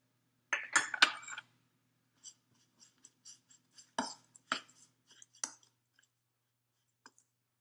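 A spoon stirs brown sugar and apple pie spice together in a bowl: a brief burst of scraping and clinking at the start, then sparse, faint taps and clicks spaced out over several seconds.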